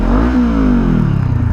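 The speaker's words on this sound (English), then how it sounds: "the stock exhaust is obviously like awful, as it is with every bike, but I have an Akrapovic slip-on here and it's pretty good." A Honda CB500F motorcycle fitted with an Akrapovic slip-on exhaust revs up close and loud, the engine note rising then sliding back down over about a second and a half, with no talking.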